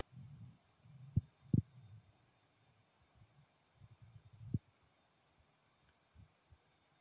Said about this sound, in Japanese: ファンが回ってはいるので多少は音が出ていますが、ほとんど気にならないんじゃないかなと思います。